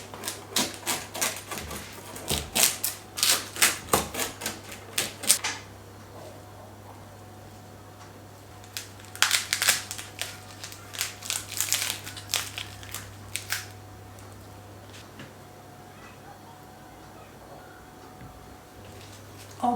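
A knife or cutter crunches through crispy baked lahmacun flatbread, a run of rapid brittle cracks, a pause, then another burst of crunchy cutting, close and clear over a low steady hum.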